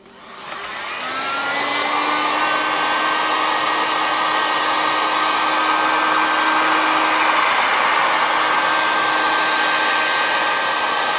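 Heat gun blowing hot air to soften tile adhesive on drywall, a steady loud whirring fan hiss that spins up over the first two seconds and then runs continuously with a constant whine, no voices.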